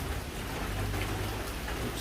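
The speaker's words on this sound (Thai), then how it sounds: "ฝนตกด้วยครับ" Steady rain hisses evenly throughout, a dense, constant wash of falling water with no talk over it.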